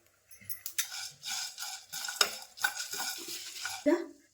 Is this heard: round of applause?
no